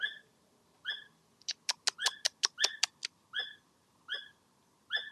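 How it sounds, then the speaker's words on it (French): A bird calls repeatedly outdoors at night, a series of clear, mid-distance chirping notes, with a faster burst of rapid calls in the middle and spaced repeats before and after, against a quiet background. "C'est un oiseau ça."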